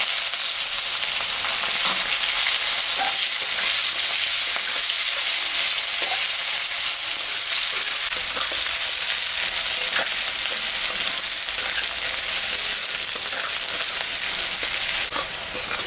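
Chopped onions fry in oil with nigella seeds, cumin and dried red chili, a dense continuous sizzle that holds steady throughout with faint occasional stirring clicks and no talking.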